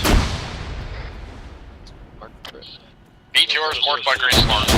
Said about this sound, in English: Alpha's engaging it with HE, so you want to be careful, Marjo.